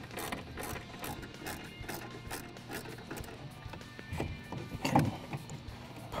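Ratchet clicking as a 5.5mm socket backs out the bolts on a factory door speaker in a Ford F150, quiet, dense mechanical ticking over several seconds with a slightly louder burst near the end.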